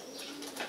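Racing pigeons coo softly for a brief moment in a noisy loft setting, the low murmur partly buried in background hiss.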